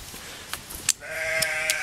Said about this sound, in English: Now the sheep are out here.